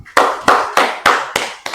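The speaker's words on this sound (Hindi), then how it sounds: "एक बार, तालियां जोरदार।" Clapping from a class of students, six sharp bursts of applause in a steady rhythm, loud and close with no talk over them.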